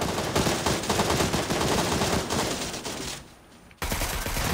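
Video game gunfire in a dense, continuous automatic barrage that thins briefly near the end before loud shooting resumes.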